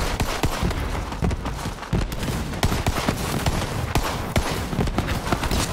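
Dense, loud gunfire in the Borderlands 3 video game: rapid overlapping shots and bursts that hammer on without pause for several seconds.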